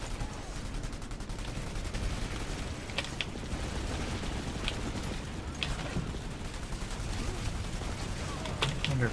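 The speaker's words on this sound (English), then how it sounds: "Under quite a lot of fire here." Heavy gunfire in the video game PlanetSide 2, a dense continuous wash of shots and explosions with sharper cracks standing out every couple of seconds.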